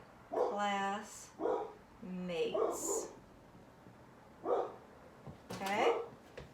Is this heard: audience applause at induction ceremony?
no